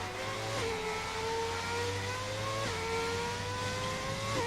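A classic Formula 1 race car engine screams at high revs in a racing video game, its pitch sweeping down through gear changes at steady intervals, loud and continuous with no talk.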